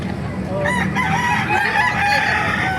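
A rooster crows loudly and close by, one long drawn-out call over a noisy background at a chicken market.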